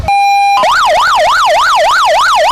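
An ambulance siren at a medical emergency demonstration in Lviv opens with a brief steady tone, then switches to a loud, close, rapidly rising and falling wail.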